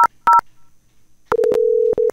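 DTMF telephone keypad tones dialing an IVR system, two short bursts of beeps followed by a longer steady tone broken by brief gaps, clean and close.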